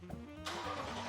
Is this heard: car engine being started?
yes